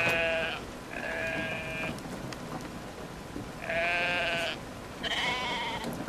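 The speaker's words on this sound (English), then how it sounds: "I'm just gonna let all these sheep go" A herd of sheep bleats in the Brothers: a Tale of Two Sons video game. Several loud, wavering calls come in separate bursts with quiet gaps between them, over a steady background hiss.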